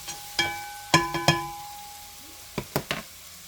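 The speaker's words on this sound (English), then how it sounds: "I'm going to go ahead and stir this around just a little bit." Seasoned ground beef stirred in a pan with Creole seasoning, garlic powder and parsley. A few sharp scrapes and knocks of the spoon ring out over a faint sizzle, in two short clusters.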